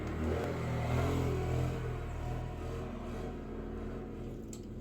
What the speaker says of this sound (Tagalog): Daming mga motorsiklo na dumadaan ngayon guys.